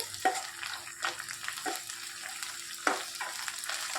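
Ginger garlic paste fries in oil for a potato curry, a soft steady sizzle with a few sharp scraping stirs at intervals, close and fairly quiet, with no talking.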